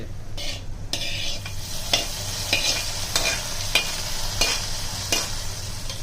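Ingredients for biryani being sautéed in a pot, a continuous oil sizzle broken by repeated sharp scrapes and clinks of a metal spatula stirring at a loose rhythm, close and fairly loud, with no talking.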